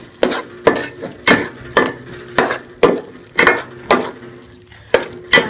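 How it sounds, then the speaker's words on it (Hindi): Dried milk being mixed into carrot halwa in a pan, with a steady series of sharp scraping stirs repeating about every half second, close and loud, over a soft sizzle. "इसको मैं डाल के अच्छी तरह से मिक्स कर लूँगी।"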